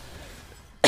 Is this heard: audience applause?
no